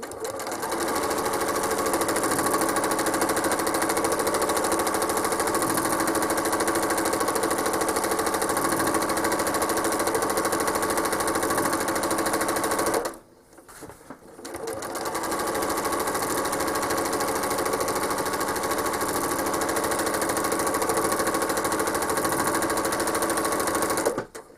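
Long-arm quilting machine stitching a feathered border on a Honeybloom quilt: a steady, loud, continuous mechanical hum and rapid needle chatter, with a brief pause mid-way before resuming.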